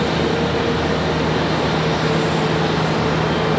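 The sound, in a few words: PSA Airlines plane on approach at Charlotte airport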